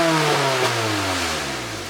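Toyota MR2 engine running with a revving, wavering note that slowly drops in pitch, steady and close with no talking.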